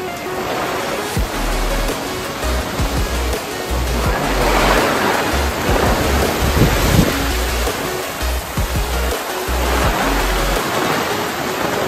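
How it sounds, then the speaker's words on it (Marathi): Steady rain shower easing off outdoors before a fishing trip, a continuous loud hiss of falling water like surf with low rumbling bursts, no speech. "चांगली पावसाची सर लागून गेली आहे, तर थोडा कमी झालाय."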